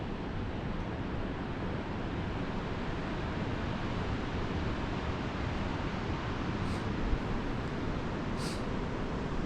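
Strong, gusty wind roars steadily outdoors on an exposed high viewpoint at Ohiya, a loud, continuous broadband rush with no speech.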